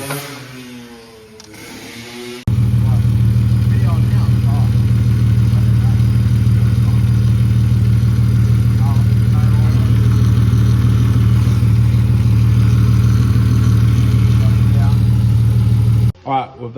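Ford AU Falcon engine fitted with a converted Astra power steering pump, cranking and catching, then idling steadily and loudly up close for over ten seconds before shutting off, with brief speech at the start.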